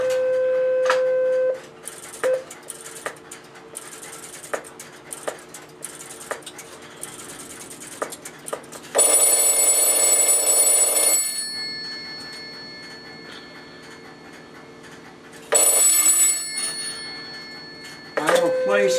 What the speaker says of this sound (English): I will call that number and it will be ringing it at 20 Hertz.